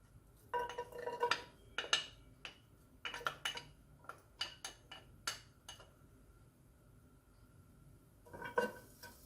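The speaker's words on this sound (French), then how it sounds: "On va les remuer pendant 30 secondes." Garlic and ginger stirred in a pan over medium heat, scattered light scrapes and clinks of a utensil against the pan in irregular bursts, close but quiet, with a pause before a final few strokes.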